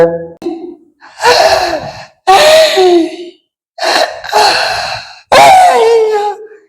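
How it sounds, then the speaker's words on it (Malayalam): An elderly woman takes deep breaths during a doctor's examination, several loud drawn-out inhales and exhales with voiced, groaning edges, spaced by short pauses. "ശ്വാസം ശരിക്ക് വലിച്ചു വിട്ടേ"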